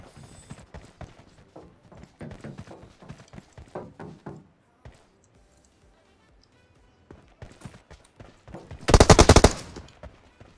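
Gunfire in the mobile game PUBG Mobile: a short, loud burst of rapid shots near the end, following a stretch of quieter in-game clatter and footsteps.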